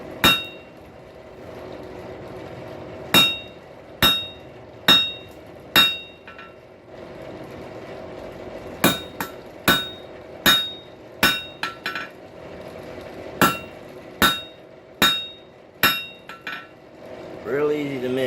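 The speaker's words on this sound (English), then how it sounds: "You gotta learn to aim with the edge of your hammer for the edge of your anvil." Steel hammer blows ring sharply on an anvil while forging a tenon hook, coming in quick bursts of two to four loud, close metallic strikes separated by short pauses.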